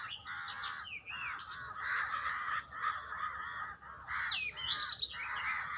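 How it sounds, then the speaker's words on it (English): Outdoors, crows give repeated harsh caws while smaller birds add brief chirps and tweets. The calls come at a moderate distance in uneven bursts. "I am listening to cute funny bird."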